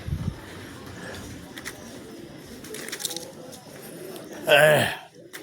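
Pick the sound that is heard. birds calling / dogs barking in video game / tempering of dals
birds calling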